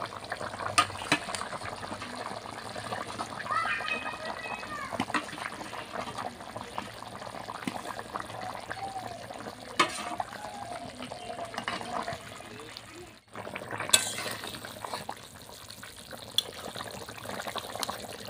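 A pot of potato, cauliflower and egg curry bubbles steadily at a boil, with a continuous dense hiss and gurgle that drops out briefly near the end before resuming.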